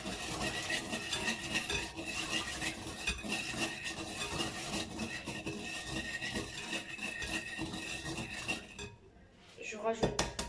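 Brioche dough mixed by hand in a bowl, with steady scraping and clinking of a utensil against the bowl, close and continuous, stopping briefly near the end before a few final knocks.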